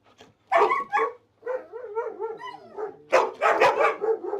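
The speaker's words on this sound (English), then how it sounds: "I also teach them to bark first." A dog barks on command in a quick series of close, loud barks and yips with short pauses between bursts, alone with no talking.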